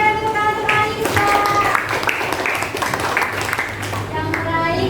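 A classroom of children claps for Anissa, the student awarded second place, in a steady, dense patter with young voices and a melodic tone threaded through it.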